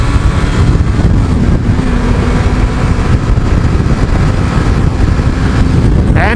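Yamaha XJ 900 F motorcycle engine running hard at high speed while downshifting, a loud steady roar with continuous wind rush and no voice over it.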